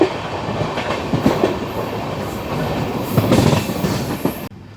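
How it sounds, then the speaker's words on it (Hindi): The Seer Govardhanpur Express runs non-stop through Beas station, heard from on board as a loud, steady rumble with rhythmic clickety-clack of wheels over rail joints and occasional metallic squeals. "बट अपनी सिर गोवर्धनपुर एक्सप्रेस देखिए नॉन स्टॉप जाती हुई"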